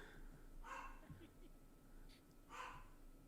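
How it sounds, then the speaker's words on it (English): A dog barks outside, two faint distant barks spaced a couple of seconds apart under a quiet indoor room tone. "This dog is just going crazy out there."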